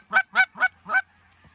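Geese honking during a goose hunt in Oklahoma, four loud, evenly spaced nasal honks close by, then quiet.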